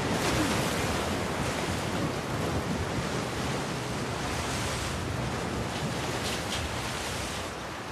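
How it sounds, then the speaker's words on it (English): Ocean surf in The Last of Us Part II, a continuous roaring wash of waves with wind, fairly loud and steady for the whole stretch, easing slightly near the end, with no voices. "It's because we're getting near to the, must be near to the ocean"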